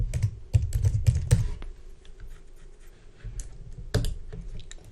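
Fingers type a password on a computer keyboard in quick, close clicking bursts. A short pause falls in the middle, then a few more keystrokes come before it ends.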